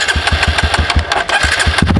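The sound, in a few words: motorcycle engine starting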